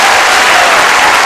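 Loud, dense round of applause from a crowd of families honoring students at a Pine-Richland Middle School merit scholars night, steady continuous clapping, close and full.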